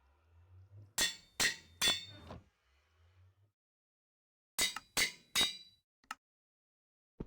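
An anvil is used in the Minecraft video game: three sharp metallic clinks in quick succession, a quiet pause with a low hum, then three more clinks and a final lighter one.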